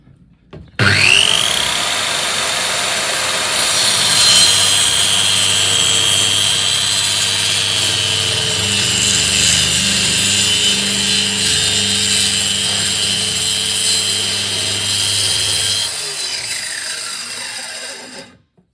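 A string trimmer cutting under a table whines loudly and continuously for about fifteen seconds, high-pitched buzzing with a motor drone underneath, starting abruptly and winding down at the end.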